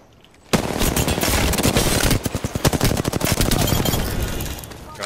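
Rapid automatic bursts from an R99 submachine gun in the shooter game Apex Legends, loud and close, firing almost continuously for several seconds with brief choppy gaps, mixed with other gunfire.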